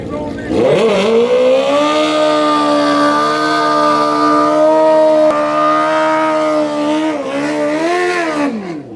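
Loud drag race cars at an outer banks summer shootout event, one supercharged and one twin turbo, scream under a sustained, revving high engine whine that holds for several seconds before shifting and fading near the end.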